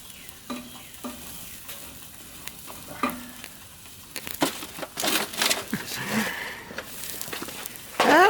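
Hot coals get dumped into a Hasty Bake charcoal grill, a run of scattered clinks and crunchy rattles building into a louder tumbling pour, with a sizzle-like hiss and a sharp scrape at the end.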